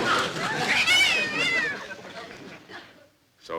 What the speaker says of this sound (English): There's that pesky cat of Mrs. Elkins again.